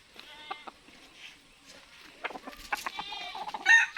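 Labuyo jungle fowl roosters fighting outdoors on a mountain, giving sharp clucks, squawks and short scuffling bursts that grow louder and busier toward the end, with a faint voice nearby.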